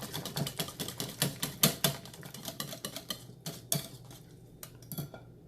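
A spoon is stirring a bowl of wet oatmeal raisin cookie batter made with banana or egg, giving a quick, steady run of clinking, scraping strokes close by that slow and soften toward the end.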